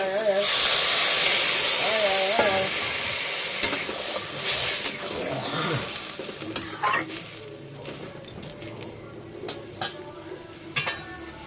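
Water hits a pan of lightly fried banana pieces for a fish curry, bursting into a loud hiss and sizzle that gradually settles into softer bubbling with scattered clinks and scraping of a spoon, close by.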